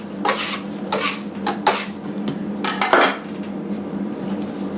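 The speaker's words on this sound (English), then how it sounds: "Take my dough out. I'm just going to roll this out a little bit." Croissant bread dough being lifted out and rolled, giving a few scattered bumps, rubs and scrapes on a work surface, fairly close, with a steady low hum beneath and no talking.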